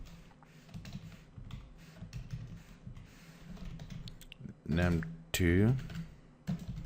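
Fingers type steadily on a computer keyboard in quick, close, light taps, while a voice talks over the keystrokes now and then.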